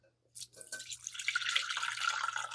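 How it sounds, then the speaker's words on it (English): Infused brandy is strained into a large bowl, a steady close trickle and splash of liquid building after a brief silence and continuing throughout, with faint talk mixed in. "We'll start with straining our infused brandy."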